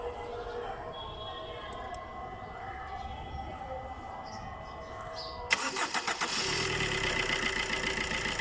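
Chevrolet Enjoy engine, with its belt removed during a check for a humming noise, cranks briefly with a few sharp pulses and then catches into a steady, fairly loud idle after a quiet stretch of background noise.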